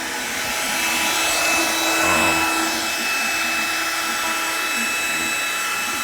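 A Shapeoko CNC router carves a wooden plaque while a shop dust collector on a bucket separator runs alongside, giving a steady, loud broadband roar with a faint high whine and no pauses.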